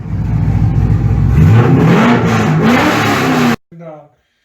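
A loud yellow muscle car engine revs hard and continuously for about three and a half seconds, its pitch climbing and wavering, then cuts off abruptly, followed by a short quieter rise of sound.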